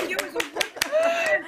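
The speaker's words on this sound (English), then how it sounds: "Always clap in Silicon Valley" A handful of panel participants clap in short, distinct bursts, roughly evenly spaced, with voices and light laughter mixing in over the claps.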